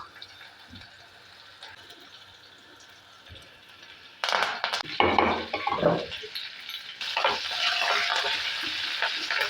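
Native garlic cloves in their skins and curry leaves frying in a pan for obbattu saaru, a quiet sizzle that swells into loud crackling spatter with stirring midway through, no voices.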